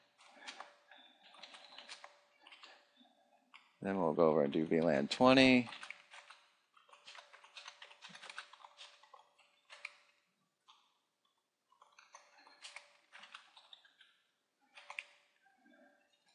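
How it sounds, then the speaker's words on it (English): Computer keyboard typing while configuring Cisco VLAN interfaces: close, irregular runs of light key clicks throughout, with a short stretch of someone speaking partway through. "There you go, that's what I'm typing."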